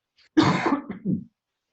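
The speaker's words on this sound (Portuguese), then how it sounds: "essa tosse, hein?" A single person coughs harshly up close, a short burst followed by a weaker second hack, then quiet.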